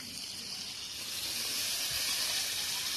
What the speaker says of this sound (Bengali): কিশমিশটাকে একটু ভেজে নিচ্ছি